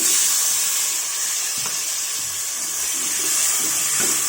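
Tomato pieces dropped into a hot pan with oil and asafoetida while making pesara charu, giving a steady, fairly loud sizzling hiss that holds throughout with faint crackles and no talk.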